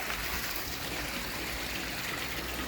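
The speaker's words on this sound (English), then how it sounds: "got a fantastic waterfall in there." A small waterfall pouring into a quarantine fish tank, a continuous even trickling rush of water, close and steady throughout with no voices.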